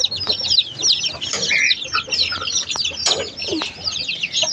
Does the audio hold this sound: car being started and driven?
no